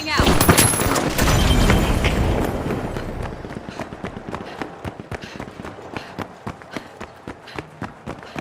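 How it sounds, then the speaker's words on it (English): A flashbang grenade detonates in the arena shooter The Finals, a loud bright blast with a ringing tail over the first two seconds, then fading into scattered sharp clicks, footsteps and light gunfire. "Flashbang out."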